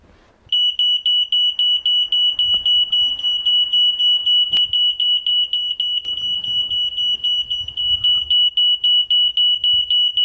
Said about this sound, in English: And Captain Koala, what should you do if you hear the smoke alarm in the middle of the night?